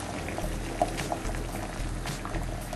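Half a red cabbage simmers in a pot of water, giving a continuous soft bubbling and burbling with a few faint pops, fairly close and steady.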